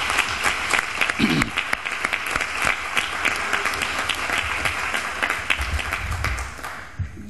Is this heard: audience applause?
yes